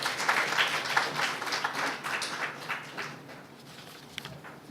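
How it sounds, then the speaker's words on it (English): A school prize-giving audience breaks into applause, a steady wash of many hands clapping at moderate distance that slowly tapers off. "I think that deserves a round of applause."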